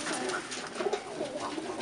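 A tippler pigeon hen coos in soft, repeated throaty phrases close by, the calls steady and alone with no talk over them.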